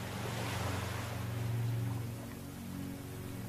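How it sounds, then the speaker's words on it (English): Ocean waves in a calm meditation soundscape, a soft continuous wash of surf that swells and eases with a low rumble beneath, no talking. "Allow the sounds of the ocean to wash over you"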